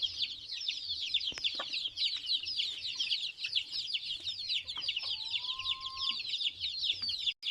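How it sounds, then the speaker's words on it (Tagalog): A flock of pure Darag native hens clucks and chatters continuously at a moderate distance, with scattered sharp calls and a short whistling tone midway. "ito din po yung pure na darag native chicken na inahing mga manok"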